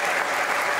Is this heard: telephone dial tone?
no